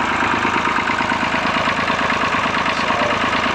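A Massey Ferguson 35 three-cylinder diesel tractor runs loud and close with an uneven, knocking idle, its steady rhythmic chug broken by a misfire throughout.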